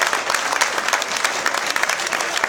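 An audience claps for an honorary president at a Salon d'Automne art event, a dense, steady round of applause that stays close and loud throughout with no voices on top.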